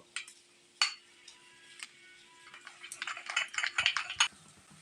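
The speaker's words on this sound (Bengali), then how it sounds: "দিয়ে খুব ভালোভাবে কিন্তু এটাকে মিক্সড করে নেব" A spoon stirs spices and kasuri methi into a pan for dhaba-style egg curry, making scattered light clinks and scrapes against the metal that grow busier toward the end.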